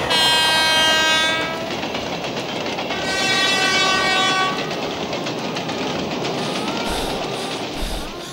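A train rumbles past on the tracks with a steady clatter, its horn blaring twice, loud and close.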